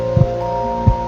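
Heartbeat effect for a Spanish narration of Poe's The Tell-Tale Heart: two deep, muffled thumps about 0.7 seconds apart over a steady low hum, with no voice.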